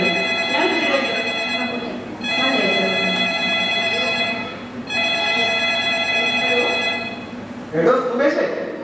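A telephone rings during a Malayalam stage skit, its repeated bursts of ringing heard in the foreground while actors talk over it.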